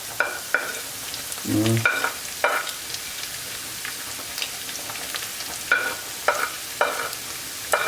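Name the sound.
stirring minced meat with paprika and garlic in a pan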